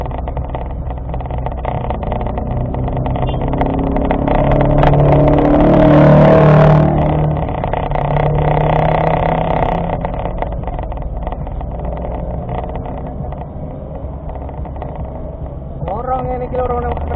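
A car climbs a steep hill road near Pacet in first gear, its engine droning steadily and swelling louder in the middle as it labours upward, with people chatting inside the cabin over the constant motor noise.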